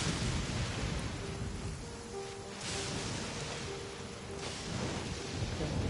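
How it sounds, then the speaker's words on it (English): Steady rain and rumbling thunder in the Genshin Impact video game, a continuous broadband wash that swells and dips over the few seconds, played loud and alone without talk. "It always rains when I go on an adventure."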